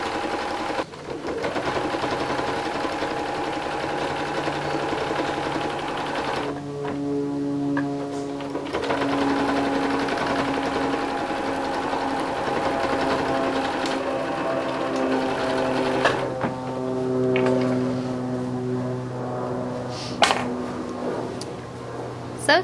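Sewing machine stitching a salon haircutting cape, a steady fast mechanical whir running in long stretches with brief pauses between seams, close and clear with no talk.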